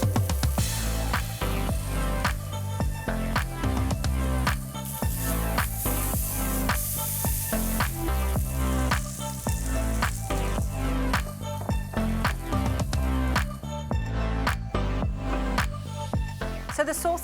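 Pepper steak sizzles loudly and steadily in a frying pan for the whole stretch, with a rhythmic music-like layer running alongside it.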